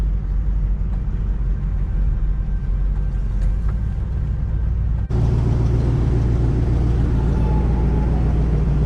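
An old abandoned classic car rolling into a gas station: a loud, steady low engine rumble from inside the car, with an abrupt jump in tone and loudness midway as the drive changes.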